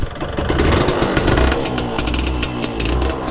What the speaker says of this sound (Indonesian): Harusnya mesinnya masih nyala nih motor.